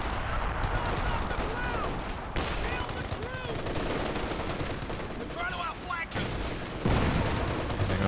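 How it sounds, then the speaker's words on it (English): Artillery and gunfire in the video game Company of Heroes 2: rapid machine-gun bursts and repeated shots over a dense battle din, fairly loud and continuous, with a commentator talking throughout. "Major artillery in the middle"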